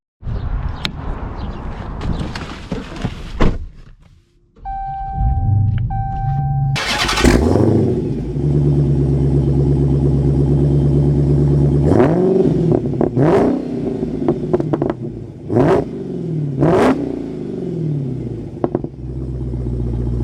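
Dodge Challenger Hellcat engine starting with a loud burst, settling into a deep rumbling idle, then revving sharply several times in a row, close and powerful.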